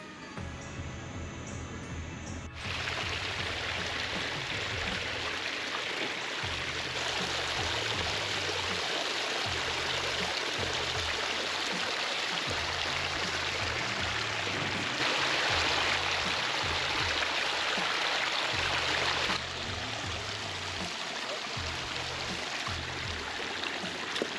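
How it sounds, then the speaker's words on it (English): Steady rushing and splashing water from a small backyard koi pond waterfall runs continuously throughout, close by and fairly full. "There's our waterfalls up there."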